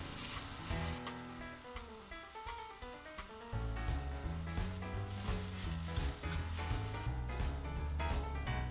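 Soft tofu stew ingredients mixed in a pot with sesame oil, giving a steady, fairly loud sizzle of frying that continues alongside tonal background music.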